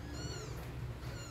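A cat meows repeatedly beside a mother cat that has just given birth to kittens, the cries close and steady over constant low background noise.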